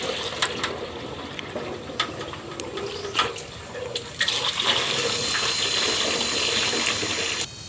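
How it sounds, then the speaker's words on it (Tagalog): Water gushes into a sprayer tank in a steady rushing fill, loud and close, with a few sharp knocks early on and a rising hiss as the tank fills before it cuts off. "Napuno na ating sprayer ng tubig."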